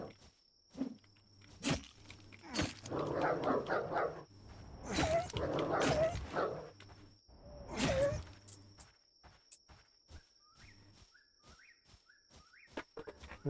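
A dog in the Dysmantle video game gives a few scattered barks amid footsteps and ambient game sounds, moderately close, with occasional bird chirps and no speech.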